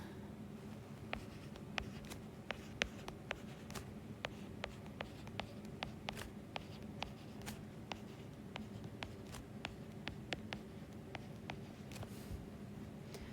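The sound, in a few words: writing out notes by hand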